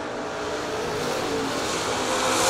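A drag race pitting a Nova against a 1972 Datsun, with engines roaring steadily and building in loudness as the cars accelerate down the strip. The sound is a continuous broadband drone with no talk over it.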